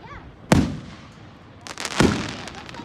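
Fireworks at a Niagara hose company display burst in two sharp, booming reports about a second and a half apart, with a crackling trail between them and distant rumble.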